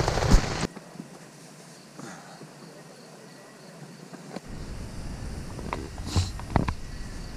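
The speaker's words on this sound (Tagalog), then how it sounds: "Malakas yung hangin tapos malakas pa yung ulan." Heavy rain and strong wind batter a campsite at Sunridge resort at night, a steady broadband hiss with intermittent gusts and thumps that grows rougher toward the end.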